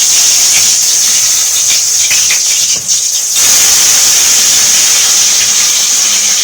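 Potatoes tipped into hot oil for a spiced Bengali potato curry, a loud steady hiss of sizzling that runs through the whole stretch with only a brief dip partway, close and continuous with no talking over it.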